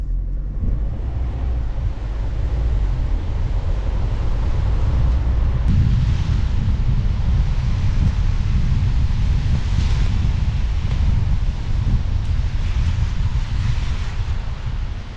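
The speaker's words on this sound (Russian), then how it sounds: "Это река Мерсед, водопад, не знаю, как называется." A waterfall on the Merced River in Yosemite gives off a steady, loud broadband roar of rushing water, mixed with wind buffeting the microphone. It carries on unbroken throughout, with no voices.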